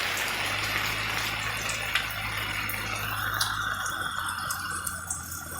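Water runs down from above onto garden plants in a steady, moderately loud stream with a constant low hum underneath and occasional light splashes.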